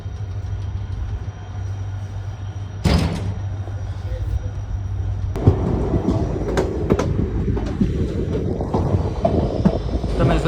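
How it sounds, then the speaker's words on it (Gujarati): A train stands and moves at a small railway station, with a steady low rumble, a sudden clunk of couplings or doors, then rolling wheel noise and rattling carriages, while people talk nearby. "ટ્રેન આવી ગઈ છે"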